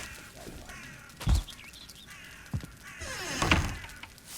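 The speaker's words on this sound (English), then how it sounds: "No, there are crows in this area." Crows caw amid a Valheim game scene, a few scattered harsh calls mixed with dull thumps, moderately loud with no talk.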